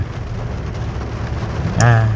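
Heavy rain falls in a steady, dense hiss throughout, with a voice briefly rising over it near the end.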